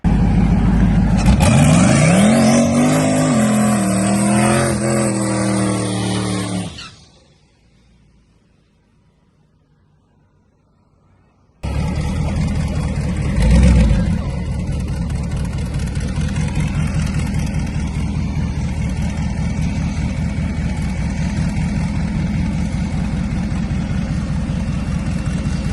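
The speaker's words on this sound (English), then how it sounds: "here's me doing some testing with the Camaro" Chevrolet Camaro engine on a test run, loud and roaring with rising revs as it accelerates, then a few seconds of near silence before steady heavy engine drone resumes.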